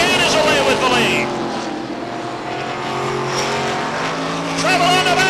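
Stock race cars roaring around Beech Ridge Motor Speedway in 1991, with engines rising and falling as cars pass near and far, heard beneath an announcer talking over the action.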